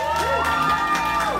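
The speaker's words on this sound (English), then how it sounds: "Keep clapping, keep clapping." A poetry-reading audience at an artist residency event claps and cheers in a loud, steady burst of crowd noise with whoops over it.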